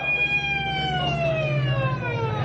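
An ambulance siren wails steadily in a radio drama, with tones gliding slowly downward as it passes close by.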